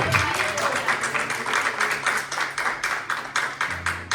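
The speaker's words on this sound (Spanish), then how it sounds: "démosle un aplauso a quién. Al Señor." Congregation in a church service clapping steadily together in praise of the Lord, a dense rhythmic applause filling the room with some voices or music underneath.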